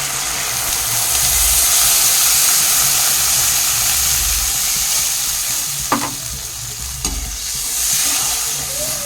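Water poured into a pan of sizzling chili chicken sauce, producing a loud, close, continuous hissing sizzle with stirring, a couple of sharp utensil clinks near the end.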